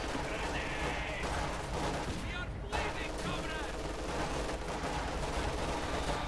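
Company of Heroes 2 battle: a 1v1 match in which a rifle grenade and rattling small-arms fire sound over a busy war soundscape, with a commentator talking throughout.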